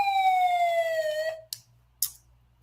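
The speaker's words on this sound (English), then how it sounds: "We're going to do a little siren action here for steal of the draft." A police-style siren effect wails for over a second, its pitch sliding downward before cutting off, followed by two short sharp clicks in near silence.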